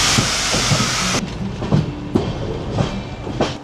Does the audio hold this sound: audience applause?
no